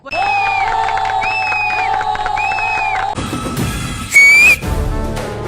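A loud one-hand finger whistle rises from a crowd, piercing and sustained in repeated wavering bursts, then cut by a noisy jumble of shouts with one sharp, loud rising whistle near the end.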